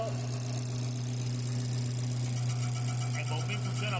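A Subaru Forester idles with the clutch pedal pressed, giving off a steady droning hum with an odd whirring, buzzing noise from the clutch, continuous and close, with a voice speaking over it.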